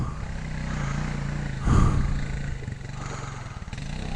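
A four-wheeler ATV climbs a steep dirt hill, its engine droning steadily and then surging into a louder growl mid-clip before settling back, heard from a moderate distance without speech.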